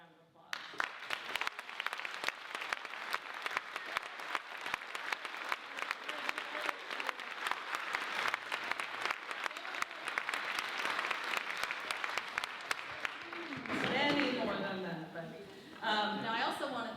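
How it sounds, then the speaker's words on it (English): An audience at a literary festival closing ceremony applauds volunteers with sustained, steady clapping for most of the stretch, then a voice speaks over the fading applause near the end. "we want to give you a round of applause"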